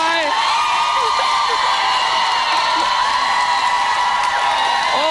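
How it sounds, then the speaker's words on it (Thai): Thai television studio audience screaming and cheering loudly and continuously, a dense wall of shrieks and whoops with a host's voice briefly heard over it. "ขอเสียงกรี๊ดดังๆหน่อย"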